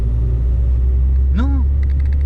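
A car rolls in freewheel with the clutch fully disengaged during a driving lesson, giving a steady, continuous low cabin rumble with one brief rising-and-falling tonal sweep partway through.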